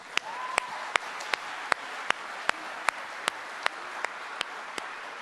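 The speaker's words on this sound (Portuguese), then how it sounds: "Você não vai aplaudir, eu vou aplaudir." During a sermon, a single person claps slowly and steadily, about a dozen sharp, evenly spaced claps standing out clearly over a soft background murmur.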